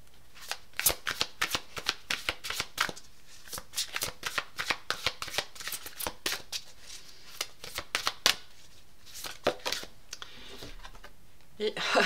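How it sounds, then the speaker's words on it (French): Tarot cards are shuffled for a card draw, giving a rapid run of crisp riffling snaps and flicks that are close and fairly loud, with a few brief pauses between bursts. "On va faire un petit tirage pour clore."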